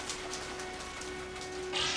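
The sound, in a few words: heavy rain pouring outside the window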